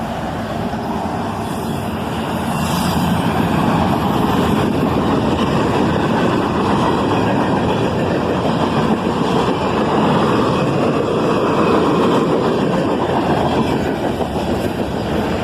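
A CSX manifest freight train led by a single ES44AH locomotive rumbles past at track speed, a loud, steady roar of wheels and rolling cars that swells after the first couple of seconds and stays constant.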